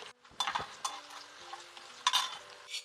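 Fenugreek seeds, mustard seeds and lentils crackle and sizzle in a tempering for gongura fry while a spoon scrapes and stirs them in the pan, giving close, irregular bursts of clatter.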